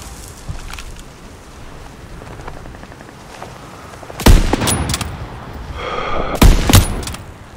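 Heavy artillery or gun blasts from the World War II shooter Call of Duty WW2, two loud booming shots a couple of seconds apart ringing out over a steady windy rumble, with no voices.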